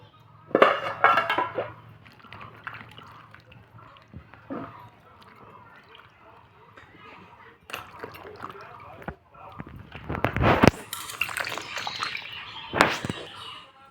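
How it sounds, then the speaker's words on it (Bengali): Eggplant, potato and tomato are rinsed in water in a kitchen: intermittent splashing, sloshing and clinks of a bowl or pan come in separate bursts, loudest near the end, with a faint background hum and no clear talk. "ধুয়ে নেব এখন জল দিয়ে"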